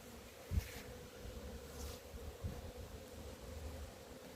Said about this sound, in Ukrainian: Ось так бджілки літають, несуть пилок